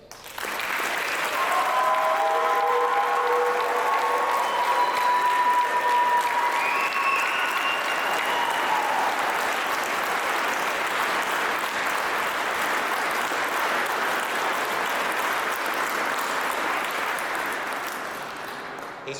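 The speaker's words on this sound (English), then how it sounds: "please join me in giving these soldiers a big round of applause" A large crowd gives soldiers a long, loud round of applause at a welcome home ceremony for an infantry brigade combat team, with some whistles and cheers early on before the clapping slowly fades.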